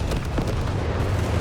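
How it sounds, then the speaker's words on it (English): A mine detonating in Company of Heroes 3 during a multiplayer battle, heard as a dense, sustained low rumble with a couple of sharper bursts near the start, loud and close with no talk over it. "And there go, mine goes off"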